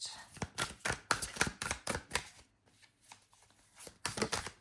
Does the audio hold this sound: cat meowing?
no